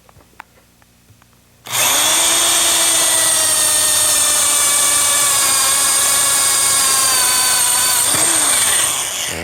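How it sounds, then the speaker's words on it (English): After a brief quiet moment, a power drill starts up and whines loudly and steadily as it bores a hole for a phone jack, running close by until the end. "And let's drill a hole."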